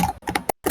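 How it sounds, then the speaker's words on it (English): Rapid, furious typing on a computer keyboard, close and loud, with dense clattering keystrokes broken by a brief pause. "That's just typing."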